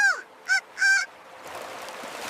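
A small duck in a children's forest story gives three nasal, honking quacks, close and clear, followed by a steady windy hiss.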